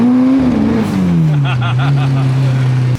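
Honda K-series engine swapped into a Nissan 240SX revs loud and close, pitch climbing then dropping and settling into a steady high drone during a street drive, with no talk over it.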